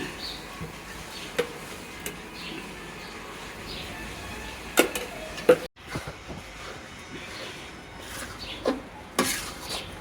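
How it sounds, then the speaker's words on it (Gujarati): Urad flour roasts in ghee while a spoon stirs it in a metal pan, giving irregular scraping strokes and a few sharp clinks over a steady low kitchen background. "આ અડદનો લોટ શેકાવા દેવાનો છે ઘીમાં"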